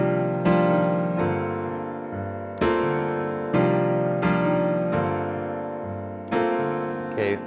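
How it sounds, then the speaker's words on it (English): Five sustained minor 11th chords ring out one after another, each struck cleanly and left to decay before the next enters, with no voices over them. "Okay, final chord progression sounds like this."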